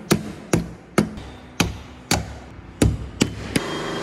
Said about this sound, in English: This crowbar will work perfectly.